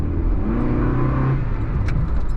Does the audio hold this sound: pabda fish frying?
no